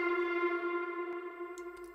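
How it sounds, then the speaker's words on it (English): A Levitate synth one-shot rings out alone as a sustained, bright harmonic tone with a slow rise, effected and reverberant, fading gently near the end. "after I put on this actual Levitate synth one shot"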